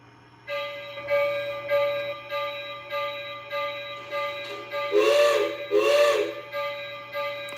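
Heavy brass bell from a Blunami sound decoder in a Rio Grande F scale (1:20.3) model train, clanging in a steady repeating rhythm, loud and close, with a steady electronic hum underneath.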